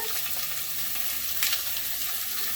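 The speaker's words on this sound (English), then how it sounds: "it's going to fry in its own fat" Bacon fries in its own rendered fat in a hot pan, a soft, even crackle of sizzling running steadily throughout, with one brief louder spit of fat near the middle and no talking.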